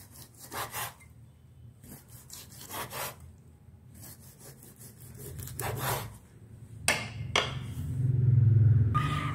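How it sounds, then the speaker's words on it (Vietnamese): A knife slices pig liver thinly on a cutting board, a run of close, quick rhythmic cuts and scrapes with brief pauses, ending in a louder rubbing stroke. "Mình thái mỏng mỏng ra cho nó nhanh chín ạ."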